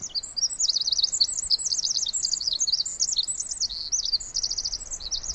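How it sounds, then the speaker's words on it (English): A tiny wren sings loudly from a branch about three feet away, pouring out rapid, continuous high trilling phrases that run through the whole stretch over a soft background hush. "a tiny wren flies down and lands on a branch about 3 feet away from us and just lets it all out."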